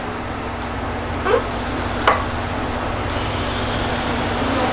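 A chicken sausage étouffée simmers in a pot, giving a steady, close sizzling and bubbling hiss with two brief louder pops or stirs partway through, and no voices.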